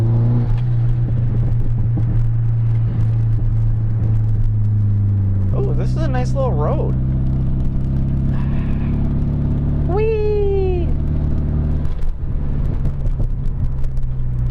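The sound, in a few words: SR240 car engine while driving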